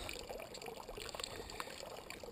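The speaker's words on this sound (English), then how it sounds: "We have a little spring right here." A small natural spring trickles from a pipe out of the ground on a mountain hillside, a soft continuous close-up pouring and dribbling.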